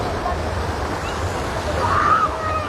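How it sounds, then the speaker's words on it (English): Ocean water sloshes and surges against a seawall at Waikiki as the tide comes in, a continuous loud rushing wash with wind noise on the microphone and a faint voice. "Watch how active this water is on the wall here."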